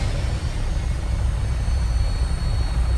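An aircraft in the Fallout 4 video game roars steadily as it takes off, a continuous low engine drone with a faint high whine, fairly loud and unbroken.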